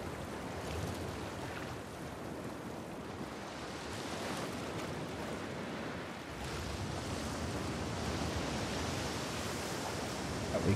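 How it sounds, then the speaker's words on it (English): Ocean waves in the video game The Last of Us Part II roll in as a constant broad wash of surf, steady and fairly soft, with a slight swell in the second half. "see how the waves are the waves are picking up."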